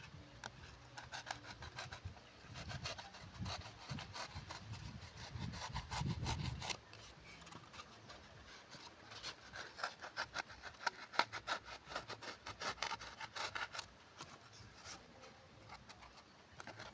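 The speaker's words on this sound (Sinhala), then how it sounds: "මම ඉතින් මේක කපන්න බ්ලේඩ් එකක් තමයි ඉතින් අරන් තියෙන්නේ." A blade cuts through material for a homemade motorboat build, giving a steady scraping, rasping rhythm of repeated strokes that stay close and moderately loud. A heavier low rumble runs underneath for the first several seconds.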